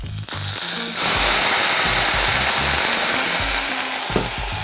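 Onions, chicken and almonds sizzle loudly in a pan, and a splash of amaretto deglazes it, swelling into a steady, hissing crackle that runs throughout.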